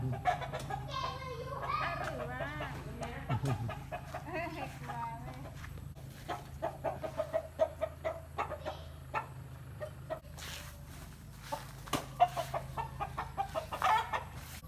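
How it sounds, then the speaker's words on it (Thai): Chickens cluck and squawk repeatedly nearby in short, irregular bursts, with a person talking over them through much of the stretch. "เอ้าใครไปไล่ไก่มาแล้ว"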